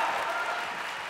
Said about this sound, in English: just give our staff a huge round of applause.